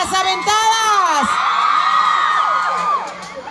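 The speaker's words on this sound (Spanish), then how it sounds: "Un grito de las aventadas." A crowd of young women at a live show with Luis Coronel shouts and whoops together in a loud, sustained burst of high-pitched cheering that fades slightly at the end.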